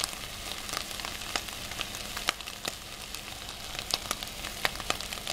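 Eggs and bacon from Fresh and Easy sizzle in a frying pan, a constant close hiss broken by sharp irregular pops and crackles, with no talking over it.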